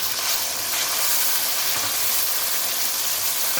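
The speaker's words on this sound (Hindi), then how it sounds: "अब मैं इसमें 1 चम्मच डाल रही हूँ लहसुन अदरक का और साथ ही जाएंगे इसमें 2 टमाटर" Onions frying in a hot pan with ginger-garlic paste and tomatoes give off a dense, continuous sizzle and hiss, loud and close, with faint stirring beneath and no voices.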